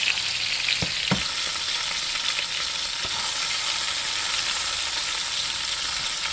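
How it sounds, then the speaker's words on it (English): Chicken pieces brown in a hot pot for brown stew chicken, sizzling and crackling steadily, with a few soft knocks of stirring or turning. "so my chicken is browning"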